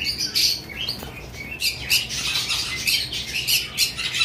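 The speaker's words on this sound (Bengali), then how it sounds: "এখানে সিরামিক কুনুর দেখতে পাচ্ছেন" A pair of ceramic conures kept as pet birds squawk and chirp in repeated sharp, bright bursts close by, with no talk.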